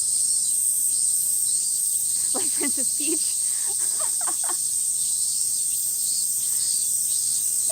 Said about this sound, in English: do you want to hear wind or do you want to hear cicadas?